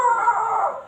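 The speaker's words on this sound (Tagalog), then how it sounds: "Oh my god, ang aso." A dog howls once, close and clear, in a short, drawn-out mournful wail that fades at the end.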